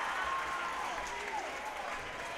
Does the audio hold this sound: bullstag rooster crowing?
no